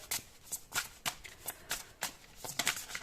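Tarot cards are shuffled in a quick, soft, steady riffle of papery flutters, close and fairly quiet, with no talk over it.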